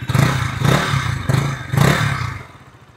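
A 2024 KTM Duke 200 motorcycle engine runs at close range with a steady, throaty drone that swells in rhythmic pulses about every half second, then settles and fades near the end.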